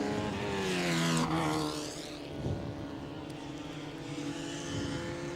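Historic racing cars circle slowly at reduced speed on a warm-up lap, their engines rising into a loud pass-by whine and then fading to a steadier mixed drone of several cars at a distance, with commentary faintly underneath.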